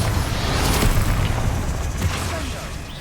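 Bombarda blasting spell going off in a Harry Potter video game, a heavy booming explosion with rumbling low end that rolls on for a few seconds, with faint game effects layered in.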